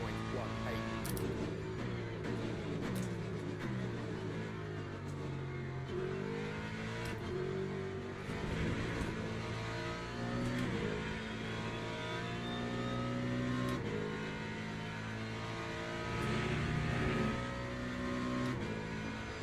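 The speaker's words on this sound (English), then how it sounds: "Here come the LMP2s." LMP2 race cars passing at the Interlagos circuit, engines droning and shifting pitch as they go by, layered over continuous broadcast commentary.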